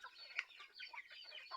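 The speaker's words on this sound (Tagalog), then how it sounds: "Marami kaming manok dito." Chickens cluck and chatter softly while feeding, several quick, faint calls overlapping in a short burst.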